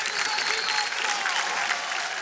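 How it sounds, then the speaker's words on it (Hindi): A crowd claps in a dense, even burst of applause on a talent show stage after a band's performance. The applause holds steady for a couple of seconds. "उनके लिए भी ताली बजाना चाहता हूं मैं"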